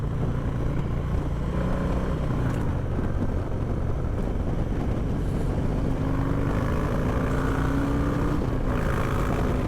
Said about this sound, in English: Listen to that bloody engine. That's that S&S 2-in-1 screaming. More of a roar as well because of that Redshift cam that's in the bike now.